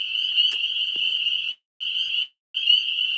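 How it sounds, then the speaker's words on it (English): Spring peeper frogs calling in a loud, dense, high-pitched continuous chorus, nearly unbroken except for two brief silent gaps, with a faint click or two in the background. "These are frogs. These are spring peeper frogs,"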